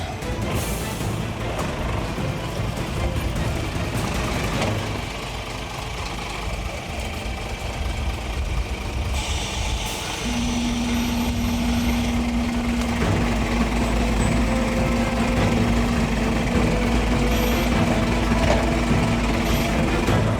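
A truck reverses at night to pick up a shipping container trailer, its engine running steadily and fairly loud throughout, with a sustained tonal hum appearing partway through.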